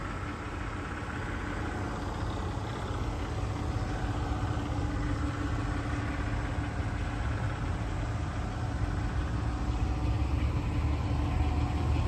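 A 2012 Ford F350 Super Duty XL regular-cab flatbed with a gas engine idles steadily, a constant close engine drone running without a break and with no voices.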